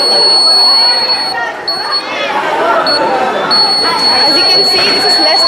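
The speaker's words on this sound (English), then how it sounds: "As you can see, this is less than 60 centimeter distance, so it's beeping" An ultrasonic smart blind stick's buzzer sounds a steady high-pitched beep as an obstacle comes within 60 centimetres, with a second tone joining later, heard under continuous nearby chatter at a busy science fair.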